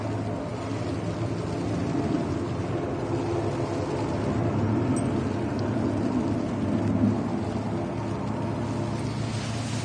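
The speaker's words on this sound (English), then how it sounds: "And we have a Ryanair pushing back now" A Ryanair airliner pushing back on the stand at Manchester Airport gives a steady, broad low engine rumble with a faint whine, holding at an even level throughout.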